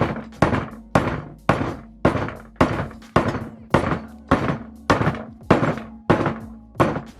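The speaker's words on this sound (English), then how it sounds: "I'm literally just going to use like a soft mallet and just whack it" A soft mallet repeatedly whacks a polyurethane bush down into a Ford Mondeo ST subframe, about a dozen dull, close thunks in a steady rhythm, each with a short ringing tail.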